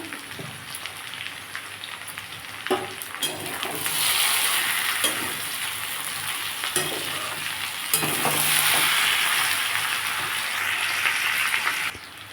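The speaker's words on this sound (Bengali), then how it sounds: "এটা একটু ভালো করে নেড়ে নেবো" An egg mixture spiced with turmeric and chili fries in a pan with a loud, steady sizzle while a utensil scrapes and stirs through it in repeated strokes, with no talking.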